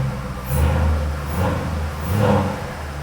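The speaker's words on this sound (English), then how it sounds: "Engine runs, happy, sounds sweet." The replacement engine in a flood-damaged Jaguar F-Type SVR idles, then revs up three times in smooth swells, with a deep, steady rumble between the blips.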